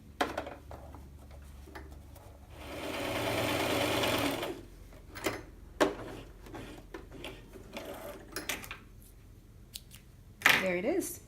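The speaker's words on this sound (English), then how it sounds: "So fold the allowance in half and then stitch on the edge." A sewing machine stitches along a folded seam allowance edge in one steady burst of a couple of seconds, then falls quiet while handling clicks, rustles and short mechanical taps follow, with a voice speaking nearby.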